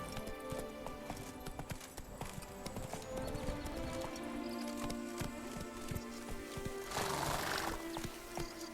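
Hooves of Roach, Geralt's horse in The Witcher 3: Blood and Wine, clip-clop in a steady walking rhythm over game music, with a brief whinny-like burst near the end; no talk.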